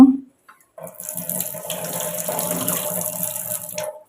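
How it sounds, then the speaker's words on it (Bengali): Running tap water pours steadily over a mix of white and black mustard seeds being rinsed in a kitchen, a close, continuous splashing gush that starts after a short pause and runs to the end. "দুটো সর্ষে একসাথে করে নিয়েছি। এটা ধুয়ে নেব"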